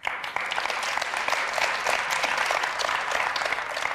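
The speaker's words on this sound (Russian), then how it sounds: "От имени всех актеров благодарю за аплодисменты." Theatre audience applause fills the space with a dense, even patter of many hands clapping, sustained at a steady level throughout with no voices.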